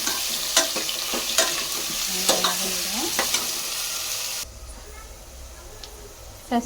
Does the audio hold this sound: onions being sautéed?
yes